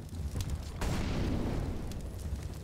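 A grenade blows up in a Counter-Strike match, a sharp burst that rolls into a heavy, sustained boom and slowly fades, loud and close.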